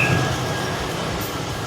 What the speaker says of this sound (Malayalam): ഒരു ലോക്ക് അങ്ങോട്ട് പോകുന്നുണ്ട്